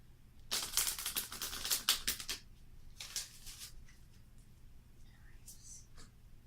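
Soft papery shuffling of oracle cards in a few quick bursts, close and fairly quiet, followed by faint scattered rustles.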